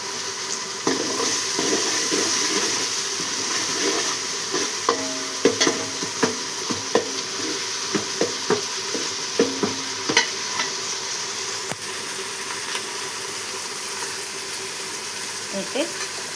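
Curry leaves frying in hot oil in a pan, a continuous close sizzle with scattered crackles and spatula scrapes on the metal throughout.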